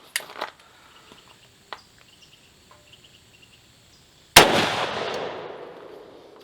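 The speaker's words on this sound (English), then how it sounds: "First shot through the Rossi." A single loud gunshot from a Rossi Brawler .410 pistol cracks out after a few faint ticks and clicks, followed by a long ringing decay.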